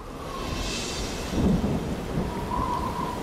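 Steady heavy rain pours through a tropical thunderstorm of the kind typhoons bring, with a deep rumble of thunder rolling through the middle and no voices.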